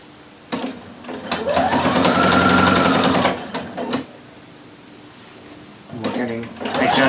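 A sewing machine stitches a basted collar onto a shirt front in a loud, rapid whirring run that rises and holds for a few seconds, pauses into quiet, then starts up again briefly.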